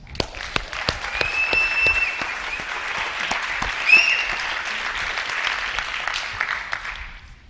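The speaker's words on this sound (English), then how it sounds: "Give a round of applause for Sania Douglas." A large audience at a youth poetry event in New York City bursts into sustained, dense applause for a poet, a loud continuous wash of clapping with a few sharper claps standing out, holding steady before tapering off at the end.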